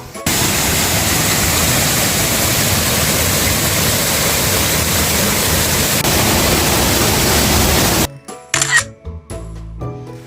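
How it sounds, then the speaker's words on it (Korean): Thundering waterfall pouring at Guseong Falls near Cheongpyeongsa Temple, Chuncheon, a dense steady roar lasting about eight seconds before cutting to quieter, broken sounds. "쏟아지는 물소리가 온몸을 울리며 웅장한 분위기를 자아내는 구성 폭포입니다."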